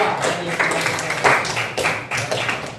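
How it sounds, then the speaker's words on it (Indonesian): Classroom applause for a student presentation group, a short burst of scattered hand claps with uneven taps running steadily for a few seconds at moderate loudness. "Kita beri aplaus dulu kepada kelompok 2"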